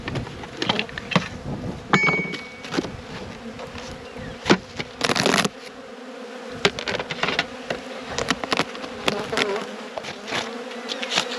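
Honeybees buzz steadily around an open hive during a late-season inspection before winter, with scattered clicks and knocks of frames and tools mixed into the close, continuous drone.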